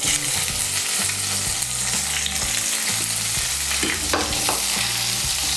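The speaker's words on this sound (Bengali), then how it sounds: "পেঁয়াজ কুচিটাকে লাল করে ভেজে নেব" Chopped medium onion fries in hot oil with a constant, loud, close sizzle, accompanied by background music playing throughout.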